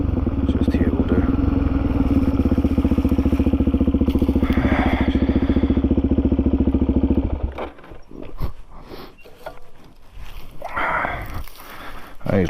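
Suzuki DRZ400E motorcycle engine idling close by with a steady, even thrum for about seven seconds, then cut off, leaving quiet outdoor ambience with a few faint clicks.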